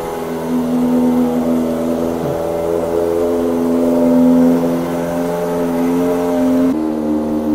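Steady drone of a Kawasaki ZX-25R inline-four motorcycle engine cruising through traffic in Baguio City, holding a constant hum with mild swells and no voices, close and fairly loud throughout.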